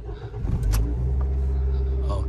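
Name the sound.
Toyota Yaris 2009 engine starting and running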